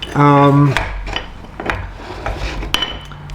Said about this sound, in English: you have this lever here to open up with these clamps and to close them